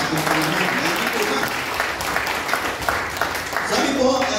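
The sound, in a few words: congregation applauding loudly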